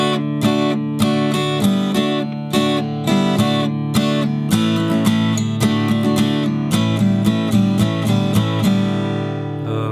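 Guitar strums the second line of a song as a driving run of rapid, even downstroke chords with a few brief pauses, loud and close with no talking.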